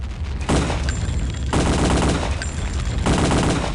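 A Tommy gun fires in Return to Castle Wolfenstein, three loud, close bursts of rapid automatic fire, each about a second long, separated by short pauses.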